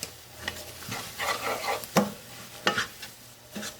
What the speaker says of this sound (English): Now we want to stir that well and add 2 tablespoons of flour.